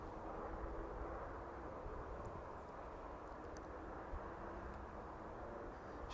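A Vulcan Air aircraft operated by the National Police Air Service approaching East Midlands Airport, heard as a steady, distant engine drone that holds faint and even throughout.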